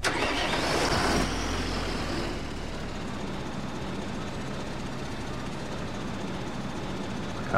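A tractor engine starting in the Agricultural Simulator 2013 video game: a loud cranking burst for about a second, then a low, steady idle rumble that carries on to the end.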